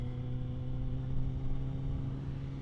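A 2022 Triumph Street Triple RS 765 motorcycle pulls steadily in second gear, its engine a continuous mid-pitched drone with stable harmonics and a slight swell partway through, heard alone without voices.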